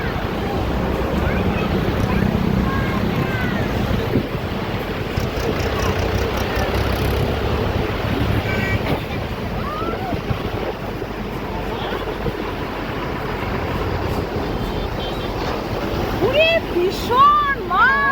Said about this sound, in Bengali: এখান থেকে জলটা ছাড়ছে।